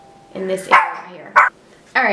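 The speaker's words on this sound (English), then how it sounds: "sorry about that if you heard any barking. It was the mailman delivering a package." A dog barks a few short, sharp times indoors while a package is delivered by the mailman, the yips breaking in over someone talking close by.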